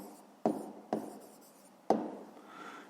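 A math solution being written by hand, three sharp pen or chalk taps followed by short scratchy strokes, close and fairly quiet, with no talk.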